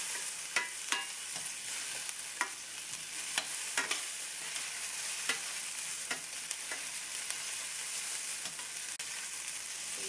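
Onions fry in a pan with a steady broadband sizzle and hiss, close up, while a utensil tosses them with scattered light scrapes and clicks, no voices.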